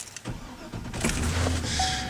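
A second-generation Cummins pickup truck engine starts up, with a brief whirring crank followed by a rising, steady engine rumble inside the cab.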